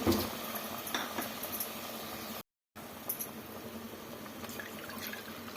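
Water pours in a steady trickle into a cooking pot of rice and split moong dal, a soft continuous splashing with light clinks and a brief gap midway.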